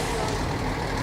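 A fire truck rolls along in a Fourth of July parade, its steady broadband engine roar and street noise filling the moment loudly and evenly without any voices.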